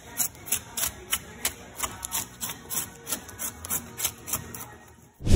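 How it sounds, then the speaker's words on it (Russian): A drawknife strips bark from a log in a woodworking shop, giving a steady run of rhythmic scraping and rasping strokes, each a short bright rub repeated about twice a second, close and fairly loud. "Вооружившись скобелем, специалист быстро и точно снимает кору."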